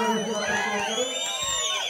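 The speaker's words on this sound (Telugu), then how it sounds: "ఈ చప్పట్లు ఈ కేరింతలు ఈ ఈలలు" A crowd at a TDP political rally in Yemmiganur cheers loudly, with shrill whistles sliding up and down over a dense, continuous roar of voices.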